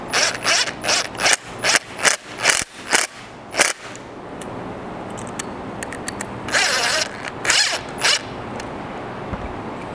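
A ratchet clicks in quick bursts while tightening bolts on a roof rack mount for a 200 Series Land Cruiser, rapid close metallic ratcheting strokes, then sparser, quieter clicks and handling.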